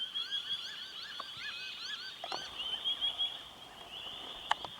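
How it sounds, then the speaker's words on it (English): Noisy miner birds call outdoors during an Eastern grey kangaroo sighting, giving repeated sharp chirps and chattering notes over a steady high buzz of insects. The calls are mostly moderate in level, with a couple of louder close chips near the end. "Birds in the background that you are hearing, those are noisy miners."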